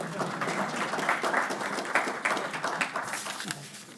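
Audience applause at an energy grid workshop session, a steady wash of many hands clapping that continues for several seconds after a talk ends, gradually tapering.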